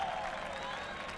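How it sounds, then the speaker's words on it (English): Crowd cheering Valentino Rossi at the 2015 Aragon MotoGP circuit, a faint, distant wash of applause and cheers running steadily in the background beneath a commentator's voice. "That's why you can hear the crowd in the background."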